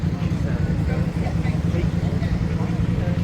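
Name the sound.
motorcycle riding on the road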